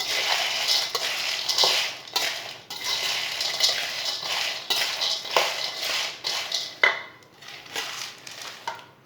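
Roasted chickpeas being stirred and mixed in a pan off the heat while making panjiri laddu, with steady scraping and clinking of a spoon against metal, close and fairly loud, no talking.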